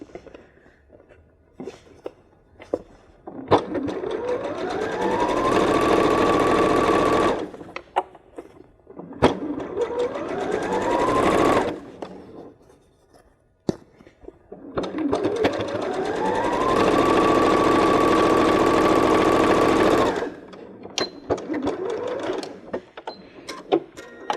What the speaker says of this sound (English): And then just sew a little bit wider than the original zigzag was.